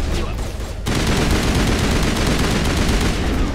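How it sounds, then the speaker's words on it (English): Rapid automatic gunfire from a weapon in the video game Mass Effect Legendary, a short burst at first, then a loud, continuous stream of shots that runs to the end. "This gun sounds absolutely insane."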